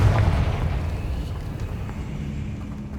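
A Confringo explosive curse from Hogwarts Legacy lands as a heavy, booming blast, loud at the start and then trailing into a long low rumble that slowly fades.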